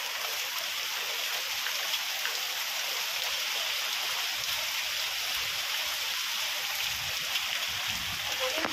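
Steady rain falls at night in a rural home, a continuous even hiss of drops that stays fairly soft and unbroken throughout.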